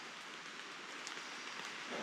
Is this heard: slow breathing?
no